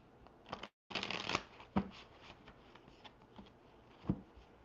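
Tarot cards being shuffled by hand, a quick riffling patter of cards with a brief pause and a couple of sharper taps, close up and fairly quiet, no voices.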